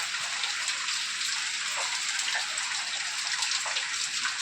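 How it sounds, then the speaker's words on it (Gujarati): Heavy rain pours down in a steady, dense hiss of countless drops striking surfaces nearby, continuous and even throughout with no voices. "જોવો કેટલો વરસાદ આમ વધી ગયો"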